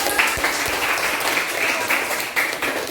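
Classroom applause from a group of students, a dense steady burst of clapping lasting about three seconds, fairly loud, with faint voices mixed in underneath.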